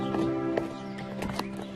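A horse whinnies briefly near the start, with faint hoof clops and steady background noise underneath.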